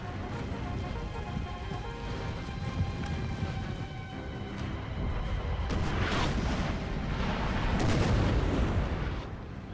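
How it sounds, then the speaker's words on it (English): Artillery booms in the video game Napoleon: Total War, where Spanish guns fire on French cavalry. Distant, rumbling volleys roll under a dense battle ambience that grows louder toward the end. "Now we got the Spanish artillery here firing on the French cavalry unit coming to kill them"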